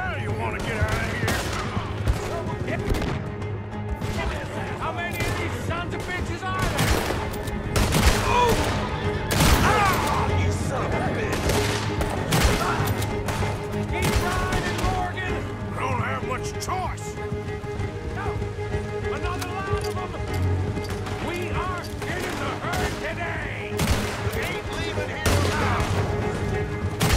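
Repeated gunfire and scattered shots from a shootout in the video game Red Dead Redemption 2, sharp cracks recurring irregularly over rain-like background ambience, with someone speaking over the action.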